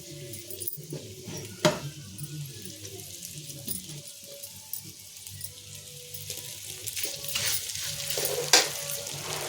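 Cooked rice being stir-fried with potatoes, tomatoes, onion, curry leaves, peanuts and urad dal in hot oil, a steady soft sizzle with scraping and stirring clatter of a spoon against the pan, occasional sharper knocks, no talking.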